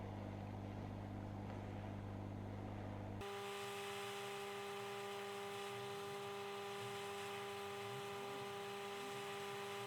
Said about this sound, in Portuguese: eu já tenho aqui o ar quente ligado para ser o mais rápido possível